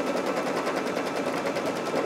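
Close, loud, rapid rhythmic chatter of a Luminaire embroidery machine stitching out a pattern, sped up, with a fast even pulse running continuously throughout.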